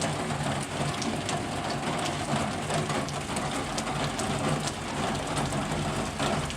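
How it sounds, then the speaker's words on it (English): Heavy rain pours steadily outside a garage, a dense, continuous hiss and patter close by with no talk over it. "look at all the freaking rain it's doing. It's just pouring out here."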